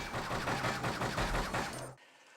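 Rapid gunfire in the Xbox game Brute Force, a dense continuous burst of automatic shots for about two seconds that stops abruptly into near silence.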